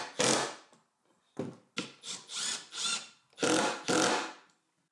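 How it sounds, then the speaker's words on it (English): A power drill drives screws into a glued wooden piece in a woodworking shop, several short whirring bursts of rising and falling pitch separated by pauses, close and clear with no talking. "I'm going to glue and screw the identical bottom piece"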